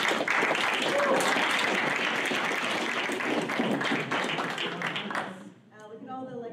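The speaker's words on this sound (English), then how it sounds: "Let's give one more round of applause for our four students" An audience applauds students at the close of an exercise science presentation, steady dense clapping for about five seconds that fades out, followed by a voice beginning to speak.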